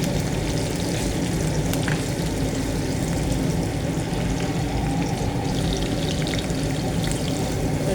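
Onions and capsicum fry in a pan with a steady, dense sizzle that holds at an even level throughout, with no voices over it.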